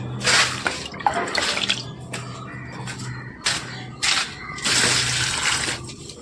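Water splashes onto garden plants in irregular bursts, pouring and spattering close by with short pauses between, while crows caw faintly in the background.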